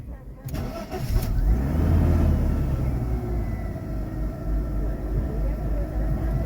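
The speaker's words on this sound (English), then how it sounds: "So I'm going to turn this out and then crank the car." A 1995 Mercedes E320 wagon engine briefly cranks with a short whirring burst, then catches and settles into a steady, low idle rumble close by.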